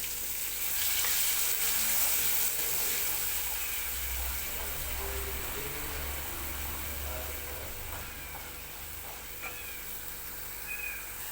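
Green masala paste fries in oil in a clay pot while a chicken rassa cooks, giving a soft, steady sizzle and crackle. It stays fairly quiet and continuous with small pops throughout.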